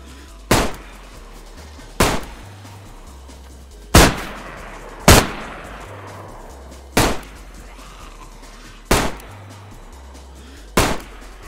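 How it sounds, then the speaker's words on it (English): Seven loud, sharp gunshots ring out in DayZ at slow, irregular intervals, each one a single crack with a short decaying tail over a quiet background. "Time to shoot."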